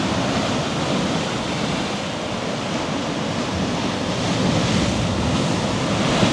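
Rough surf pushes in as the tide rises over a jagged lava-rock shore at Puerto de Talavera, a loud, continuous roar of breaking water mixed with wind buffeting the microphone.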